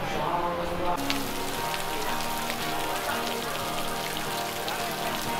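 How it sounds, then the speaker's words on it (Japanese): Sudden rain pours down at a seaside resort in Bang Saen, Thailand, a dense steady hiss of drops on surfaces that swells abruptly after a second and stays loud throughout. "雨が降ってきた。"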